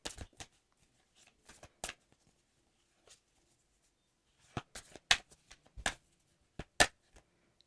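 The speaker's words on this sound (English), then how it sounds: "Jeez, I'm having a hard time shuffling." Playing cards riffled and shuffled in short crisp bursts, near and fairly quiet, with brief pauses between the riffles and no talking.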